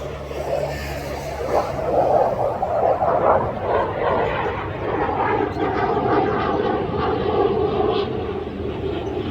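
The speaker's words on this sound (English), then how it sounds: "There's another plane." A jet airplane roars overhead in Hualien, Taiwan, its rumbling engine noise swelling and lingering steadily as it passes.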